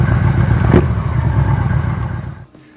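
A 1996 Yamaha XVZ 1300 V4 cruiser, weighing about 320 kilos, accelerating with a loud, close engine roar that holds steady before quickly dropping away.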